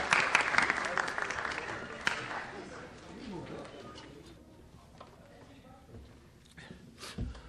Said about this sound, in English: Give another round of applause for that